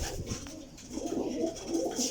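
A racing pigeon coos softly in low repeated throaty pulses at a Parwazi breeder's loft in Jhelum, faint beneath a light background hiss.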